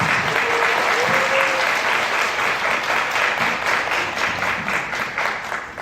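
An audience at an independent film festival screening Q&A gives a loud, dense round of applause that holds steady and then slowly fades, with a voice briefly audible early on.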